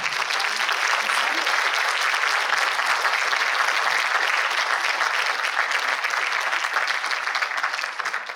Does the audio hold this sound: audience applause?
yes